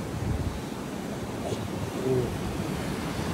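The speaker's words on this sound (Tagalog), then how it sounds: "Malakas ang alon." Strong ocean surf rolls onto the beach at the Cloud 9 surf break, a constant rushing roar of waves mixed with heavy wind buffeting the microphone.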